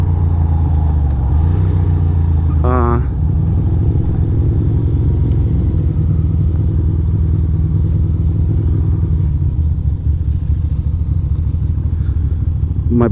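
A Ducati Monster motorcycle ridden on twisty roads north of New York City near Phoenicia: loud, continuous engine rumble with wind buffeting, and a brief rising rev shift early on before the engine settles into a steady drone.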